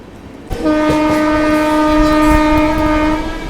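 The 12286 Secunderabad Duronto Express runs past Charlapalli station near Hyderabad, with a loud, sustained horn blast that begins suddenly and holds over the steady rumble and clatter of the moving train.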